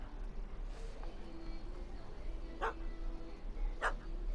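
A dog in The Witcher 3: Hearts of Stone gives two short, sharp barks a second apart over a quiet game ambience.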